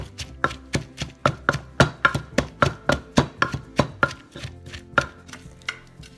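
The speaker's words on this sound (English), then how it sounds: "Now we're gonna pound the toasted chili," Toasted chili, shallots and garlic being pounded for a Lao bamboo shoot soup, a steady run of about twenty sharp, close thuds in an even rhythm, slowing toward the end, with no talking.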